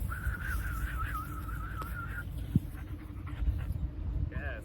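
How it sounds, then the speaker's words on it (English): A sharp, warbling high-pitched whistle used for dog recall training sounds for about two seconds, followed by a dog's panting and faint movement, with a brief whistle trill near the end. "getting their attention with a high-pitched whistle"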